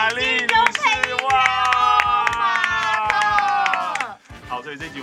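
A studio audience applauds to welcome Marcy, with brisk clapping under a loud, excited high-pitched cheering voice that cuts off abruptly before a brief quieter tail.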